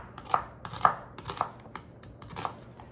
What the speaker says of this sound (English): you have to slice an onion, a whole onion